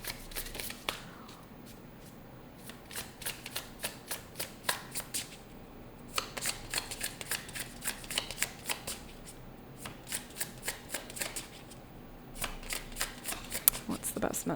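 A deck of oracle cards being shuffled by hand, with repeated crisp riffling bursts in clusters throughout and a faint voice in the background.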